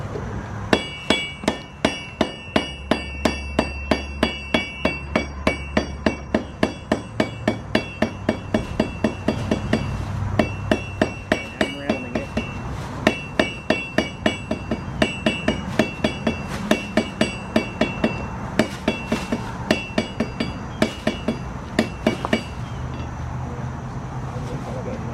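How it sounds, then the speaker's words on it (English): Blacksmith hammering an iron hook on an anvil: a long run of sharp, ringing metallic strikes in steady rhythm, close and loud, with brief pauses between bursts. "let me hammer out a hook."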